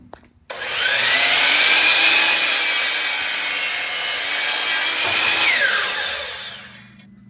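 Power saw cutting through a wood piece for a blanket ladder, a loud steady whine that starts abruptly, holds for about five seconds, then winds down.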